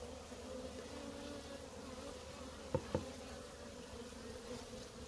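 A dense, steady hum of many honeybees balling a queen, buzzing close by, with a couple of brief taps standing out midway.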